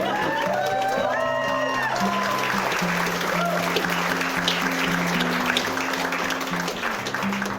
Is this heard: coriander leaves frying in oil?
no